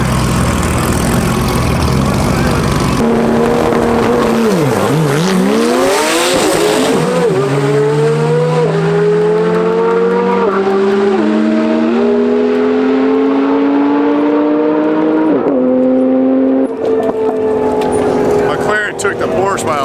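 Lamborghinis and a Porsche launch down the drag strip at the TX2K event, engines roaring loud and rising through gear changes as the cars pull away, with people talking over the noise.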